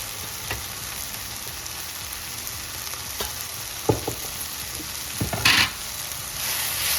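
Onion and tomato tempering with red chili powder and turmeric frying for pithla, a steady close sizzle broken by a few spoon knocks and scrapes, no voices.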